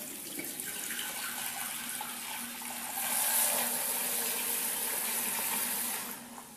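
Kitchen tap water runs into a cooking pot being filled for boxed mac and cheese, a steady close splashing stream that grows louder and fuller midway, then tapers as the flow is cut. No voices are present.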